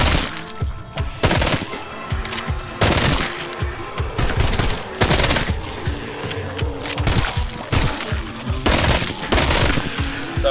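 Machine gun fire in the VR zombie shooter Arizona Sunshine, horde mode: loud, close bursts of rapid shots separated by short pauses, with sharp cracks and some breaking, shattering impacts mixed in.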